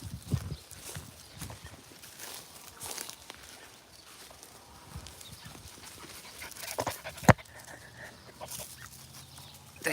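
A puppy pants on a farm near garden mounds of pumpkins and watermelon, its quick breaths mixed with hen clucks, scuffing steps and other yard noise, with one sharp knock near the end.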